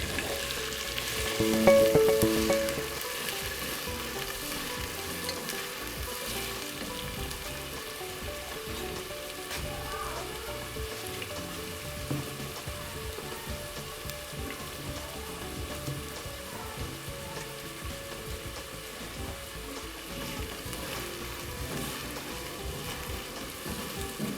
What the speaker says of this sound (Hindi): प्याज को तकरीबन 2 से 3 मिनट तक फ्राई करते रहें।